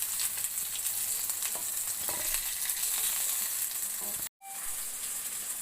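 Pieces of chicken frying in a pan for restaurant-style butter chicken, a steady close sizzle and crackle with no talk that cuts out for a moment near the end before resuming.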